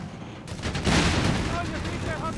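Artillery barrage in the video game Company of Heroes 3, heavy booming blasts swelling into a dense rumbling volley after a quieter start, with voices in the mix.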